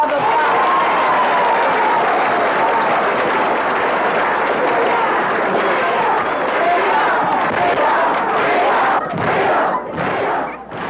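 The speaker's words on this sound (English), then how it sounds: "I think freedom deserves another round of applause" A large audience at a 1965 civil rights gathering breaks into loud, sustained applause that fills the room with a dense wash of clapping and crowd noise. It tapers off near the end.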